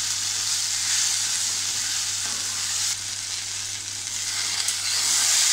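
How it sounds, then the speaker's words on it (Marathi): Okra sliced for a Maharashtrian bhaji stir-frying over a high gas flame, giving a steady, close, loud sizzle that holds throughout without any talk. "आपल्याला ही भाजी फास्ट गॅसवरच करायची आहे,"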